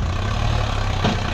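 A tractor engine idles steadily at close range, a low continuous rumble with a brief shift near the end, no talk over it.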